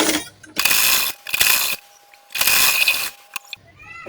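Sewing machine stitching the fabric neckline of a baby girl's butterfly-sleeve top, running in short bursts with pauses between runs, close and clear with no talking.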